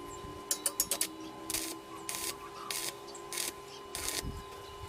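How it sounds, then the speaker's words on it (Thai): Metal parts of a homemade oil stove are welded on both sides, giving several short, crackling bursts of arc sizzle at a steady rhythm, close and fairly loud, with a faint hum between them. "แล้วก็เราเชื่อมเลยนะครับ เชื่อมทั้งสองด้านเลย"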